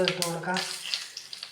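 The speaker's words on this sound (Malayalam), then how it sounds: "വറ്റൽമുളക് ഇട്ട് കൊടുക്കാം." Dried red chillies dropped into hot oil with mustard seeds, a soft crackling sizzle with scattered pops as a voice fades out at the start, close and moderately quiet.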